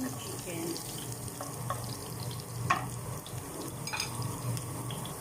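Chicken wings are dropped into a hot, lightly browned pan and sizzle with a steady, dense frying hiss that runs throughout, with faint clatter underneath.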